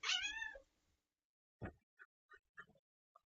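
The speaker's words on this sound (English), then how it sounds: "my cats are playing in the background" Pet cats playing indoors give one long drawn-out meow, then a scatter of short, faint chirps and mews at irregular intervals.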